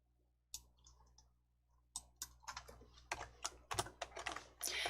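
Computer mouse clicks ring out while working in a word processor: a few isolated sharp taps at first, then a quicker, irregular run of crisp clicks, quiet and close.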